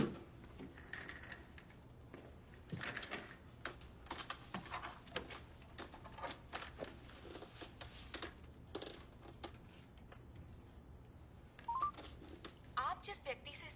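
Telephone keypad tones for a call that goes unanswered: a string of quick, fairly faint dialing beeps mixed with scattered clicks, with voices talking over and between them.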